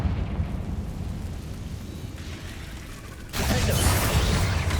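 A Confringo spell explodes in the video game Hogwarts Legacy, a loud burst that swells suddenly into a roaring blast over a rumbling game background.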